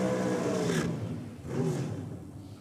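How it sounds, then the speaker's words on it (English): A Pro Stock drag racing car revs its engine through a burnout on a quarter-mile strip, a steady loud roar that swells twice as the throttle is pushed, with no talk over it. "We'll listen to the crisp sound though as they go through the burnout routine."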